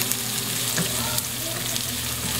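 Onions sizzle steadily as they fry in a pan for chicken giniling, a dense continuous crackle with small pops and an occasional stir, close and alone without talk.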